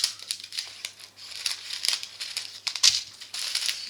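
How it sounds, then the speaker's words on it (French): Scissors snip through plastic sticker sachets one at a time, giving crisp crinkly cuts and rustling packaging in an irregular close-up rhythm, with no talking. "je les coupe un par un les sachets"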